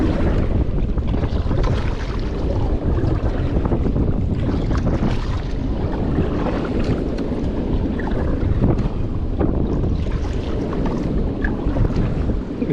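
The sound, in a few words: strong wind and waves against a boat at sea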